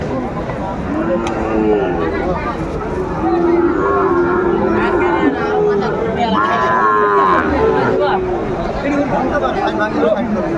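Sahiwal cattle at a busy cattle market give several deep, drawn-out moos, some nearby and fairly loud, over a steady background of crowd chatter and people talking.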